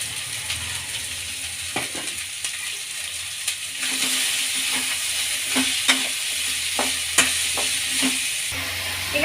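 Onions shallow fry in a pan for a masala rice roti with vegetables and greens: a steady close sizzle grows louder partway through, with repeated clicking spatula strokes and no speech.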